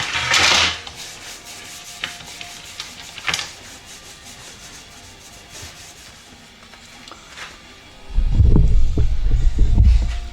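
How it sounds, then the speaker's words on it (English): A paddle is wiped down with goo remover on a paper towel, giving soft, close rubbing strokes: a short scrub, a brief swipe, then a longer, louder rub. "A little bit of that on a paper towel."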